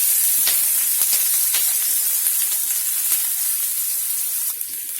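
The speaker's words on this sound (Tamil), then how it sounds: "எண்ணெயிலே கொஞ்சம் வதக்கி விட்டுக்கலாம்." Onion and curry leaves sauté in hot oil with a dense, bright sizzle that holds steady and close throughout, with occasional crackles and a slight dip at the very end.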